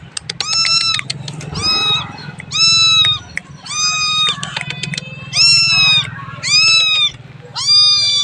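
A kitten meows loudly and close by in a repeated series of about eight drawn-out cries, separated by short pauses, with faint background noise in between.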